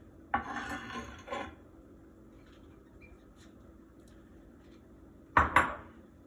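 Spoon scraping and clattering against a small pot while combining cooked rice with sauce for jollof rice, two short bursts of rasping stirs separated by a quiet stretch.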